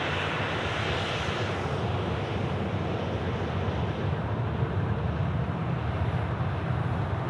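A jet aircraft taxis at Sydney Airport along Taxiway Bravo toward the terminal, a steady broad engine roar with wind noise at a moderate distance, continuous and unbroken.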